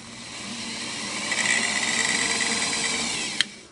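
A Singer Model 237 sewing machine winding a bobbin, with a steady whirring motor hum that rises and holds for a few seconds, then stops with a short click, close and without speech.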